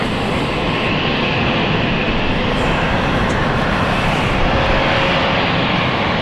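An aircraft at London City Airport undergoes pre-flight checks: a loud, constant engine whine and roar fills the whole stretch, close and unbroken, with no one speaking.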